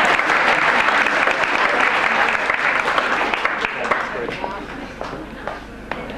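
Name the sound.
audience applause at swimming awards presentation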